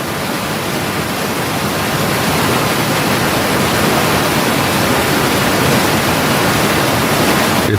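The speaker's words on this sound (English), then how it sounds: "It forms a small waterfall about 10 meters high and flows through a narrow crack in the rocks." A small waterfall about 10 meters high on the Querepacupay River near Auyantepui pours through a narrow rock crack, making a steady, close, broadband rushing roar that stays constant throughout without voices.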